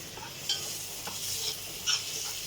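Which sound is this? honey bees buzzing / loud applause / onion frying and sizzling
onion frying and sizzling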